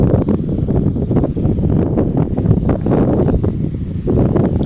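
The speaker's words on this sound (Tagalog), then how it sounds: "Medyo may hangin lang." Continuous wind buffets the microphone with low, rumbling gusts that never let up, with a faint rustle riding on top.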